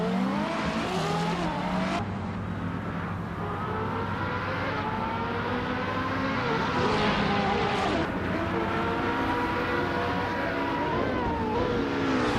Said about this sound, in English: These cars are racing at full throttle after all.